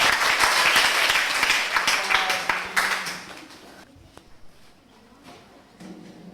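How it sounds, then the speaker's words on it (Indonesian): Classroom applause for a student group coming forward to present, a burst of clapping that thins out after a few seconds into scattered claps and quiet room noise. "Tepuk tangan untuk kelompok"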